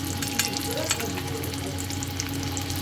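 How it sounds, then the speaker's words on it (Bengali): Vegetable egg devil fries in hot oil with a steady, close sizzle and crackle that holds evenly throughout, with no one speaking. "এরকম করে ভেজে আমি তুলে নিচ্ছি"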